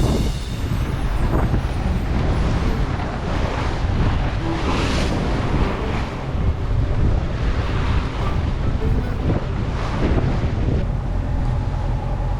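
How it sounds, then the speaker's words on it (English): Fresh northerly wind roars across the microphone while choppy waves wash against a sailboat at sea, a loud, continuous rush of wind and surf with no talking. "we exit the islands in a fresh northerly wind which is kicking up quite a chop, giving the decks a good wash"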